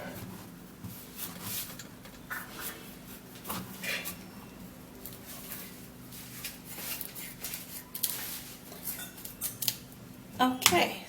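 A sweet potato is cut with a knife in a kitchen, giving a series of irregular close crisp cuts and scrapes with small clatters, getting busier toward the end.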